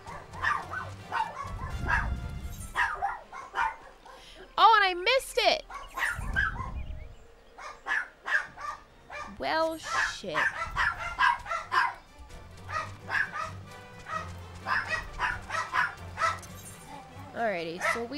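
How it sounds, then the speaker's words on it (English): Wolves barking in the Final Fantasy XIV video game, repeated sharp barks and yips scattered through the clip, mixed with people talking, with a low rumbling ambience in places. "Oh my gosh, the barking, everyone, the barking."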